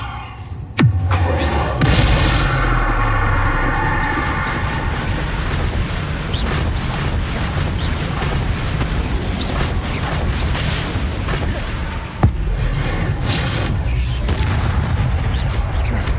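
Confringo explosive spells burst in the Hogwarts Legacy game: heavy booms land over a continuous rumbling battle roar, with a sharp blast near the start and another about two-thirds through.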